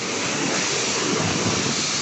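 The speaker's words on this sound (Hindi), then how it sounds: "बस यहाँ पर अभी इन्होंने पानी मार दिया" Pressurized water sprays onto a car at a car wash in Jeddah, a dense continuous hiss of steady loudness with no voices.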